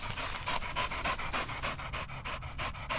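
A tired dog pants rapidly and steadily after a ball-throwing session, quick rhythmic breaths close to the microphone with no other sound.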